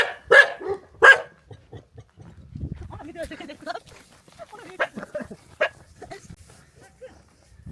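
A stray dog barks twice sharply near the start, then people talk while a few fainter barks come from nearby, in a village near Bursa, Turkey.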